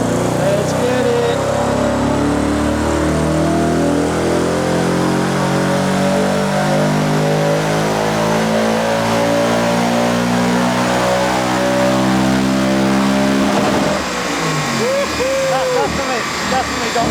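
A 150,000-mile Audi RS4 engine revs hard on a dyno, a loud sustained roar with rising harmonics that holds steady for about fourteen seconds before dropping off, with people talking over it.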